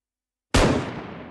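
A single sharp gunshot from a first-person zombie shooter game built in Unity, loud and sudden after silence, with a short decaying tail.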